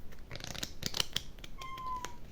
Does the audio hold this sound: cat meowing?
yes